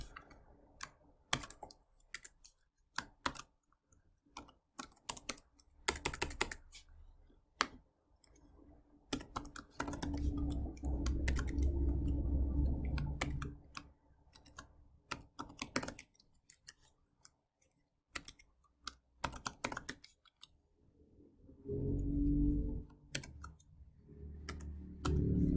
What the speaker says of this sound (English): let's just start typing it